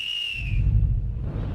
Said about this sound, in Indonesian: Cuma bersiul mau panggil polisi?